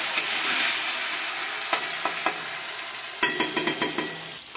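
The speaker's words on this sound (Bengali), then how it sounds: "এটাকে একটু হালকা করে নেড়ে দিতে হবে।" Hilsa fish in mustard curry is stirred in a pan over a steady frying sizzle, a spatula tapping and scraping the pan in short bursts, including a quick run of taps near the end.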